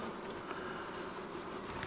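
Honeybees buzz steadily inside an Easy Bee Box hive, a close, continuous insect drone with faint tapping at moments as the colony is worked after six months.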